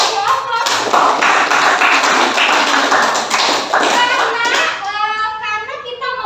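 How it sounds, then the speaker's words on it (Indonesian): A classroom of students applauds in a teaching session, a steady, dense burst of clapping that runs loud and close for most of the span, then thins out toward the end. "Kita kasih aplaus."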